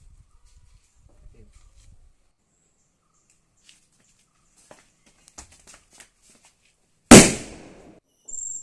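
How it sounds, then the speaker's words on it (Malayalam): Ola padakkam, palm-leaf firecrackers, go off during a home Christmas celebration: after quiet seconds of faint ticks and rustles, one loud, close bang cracks out and decays quickly, followed by a brief hiss. "ഞാനിപ്പോൾ ഓലപ്പടക്കം പൊട്ടിക്കാൻ പോവാണ്"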